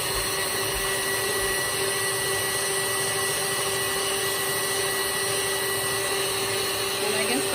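An electric mixer whirring steadily as it beats sponge cake batter, a constant loud motor drone with a high whine that runs unbroken from start to end.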